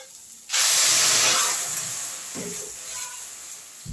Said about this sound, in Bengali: সেই জন্য এবার আমি এখানে পরিমাণ মতন গরম জল দিয়ে দিচ্ছি